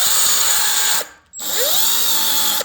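A homemade band file belt sander whines loudly and steadily, cuts off briefly, then spins back up and runs again before stopping at the end.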